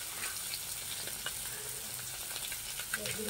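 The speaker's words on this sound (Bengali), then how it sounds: "ওই যে মাছ ভাজছি" Fish frying in a pan in a home kitchen, a faint, steady sizzle with a few light crackles.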